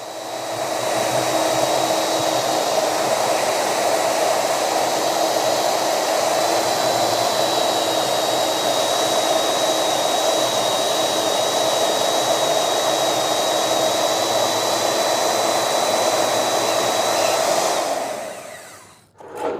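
A grinder cuts metal on a flatbed trailer being repaired, a loud continuous high whine held steady for about eighteen seconds before it winds down abruptly.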